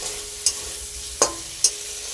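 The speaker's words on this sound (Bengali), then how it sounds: "ভালো করে মশলাটা কিন্তু কষিয়ে নিচ্ছি" Spice paste frying in hot oil for a Bengali fish curry, with a low steady sizzle and three sharp scrapes of a spoon being stirred through it, close by and with no talk.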